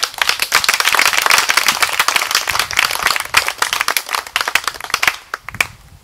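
A crowd at a political party gathering in Rangoon Cantonment bursts into loud, dense applause, a steady rush of many hands that thins toward the end, with no talking over it.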